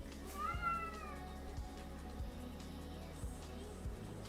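A house cat gives one drawn-out rising meow, fairly faint and a few metres away, over a low steady hum with faint periodic clicks.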